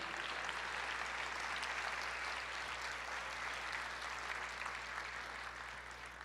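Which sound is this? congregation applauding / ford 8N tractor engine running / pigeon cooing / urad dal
congregation applauding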